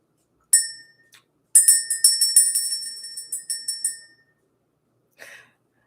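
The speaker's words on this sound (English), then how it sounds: "Let's ring the bell." A hand bell rung in a ritual to clear energy: one bright strike, a tiny tap, then a quick run of about a dozen clear rings that fade over a few seconds, followed later by one softer jingle.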